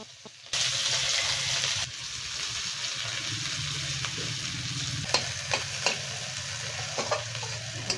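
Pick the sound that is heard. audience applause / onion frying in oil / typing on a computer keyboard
onion frying in oil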